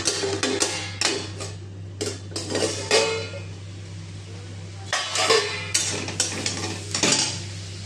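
Bottle gourd greens cooking in a pan with potato, pointed gourd and black cumin seeds, heard as repeated metal clanks of a spoon stirring against the pan over a low steady hum, close and clear.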